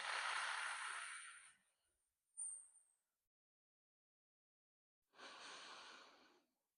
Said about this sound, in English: breathe in as you come down, blow out.